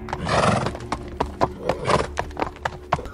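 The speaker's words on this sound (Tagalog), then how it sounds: "papasakay na sila noon sa kabayo" Horses neigh loudly and stamp, with scattered hoof clip-clops in an uneven rhythm as riders mount, close by and without voices.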